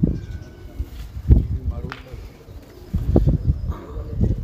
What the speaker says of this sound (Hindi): ये कबूतर